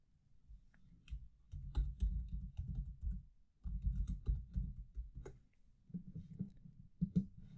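Keyboard keys pressed in irregular bursts of soft clacking, close by, with brief pauses between flurries of taps.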